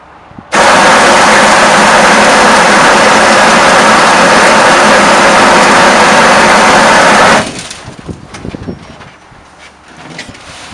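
A TOY grain roller flaker mill starts under load and runs with a loud, steady, dense mechanical roar for about seven seconds, then cuts off, leaving faint knocks and rattles of the machine settling.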